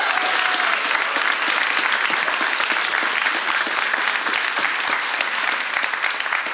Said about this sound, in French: Vraiment, une bonne main d'applaudissements.